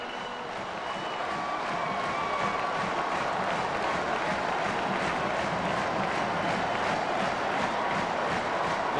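A sellout college football crowd at College Park roars after Maryland beats Florida State 20-17, a dense, sustained wall of cheering and applause at steady loudness.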